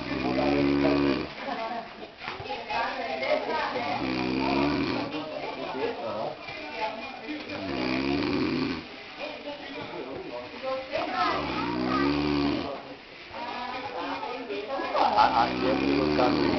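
A person snores in loud, raspy, rhythmic bursts that repeat every few seconds, close by and continuing throughout.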